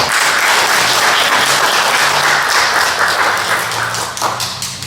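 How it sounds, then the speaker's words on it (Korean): Loud, close applause from a church congregation during a Sunday morning service, clapping in encouragement for children: thick, continuous clapping that holds strong throughout and tapers a little near the end. "우리 다민이, 아민이 다민을 위해서 격려 박수를 한번 할까요?"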